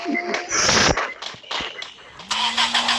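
A vehicle engine cranks and catches amid a burst of rustling noise, and a rising engine tone settles in toward the end with scattered background clatter.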